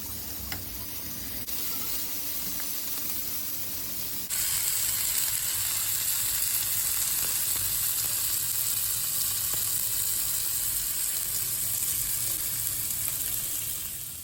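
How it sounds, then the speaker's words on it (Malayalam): Red snapper fish frying Kerala style in a little oil over a low flame, giving a steady close sizzle that jumps louder after a few seconds and then holds, with no talking. "അതുകൊണ്ട് ഇങ്ങനെ ചെയ്യുമ്പോൾ നമുക്ക് കുറച്ച് എണ്ണ മതി. മീനും നന്നായിട്ട് വറുത്ത് കിട്ടും."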